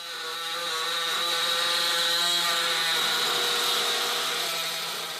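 A power tool cuts away a small flange on a Mopar Valiant's front control arm mount, a steady loud whining drone that holds for several seconds and tapers slightly at the end, with no talking.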